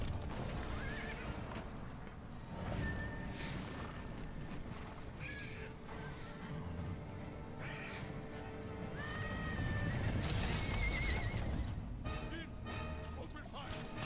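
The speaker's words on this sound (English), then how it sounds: "Shoot the horses! Shoot them!" Horses in the Ghost of Tsushima video game neigh and whinny repeatedly amid galloping hooves and battle clatter, loud and busy, with voices talking and shouting through the noise.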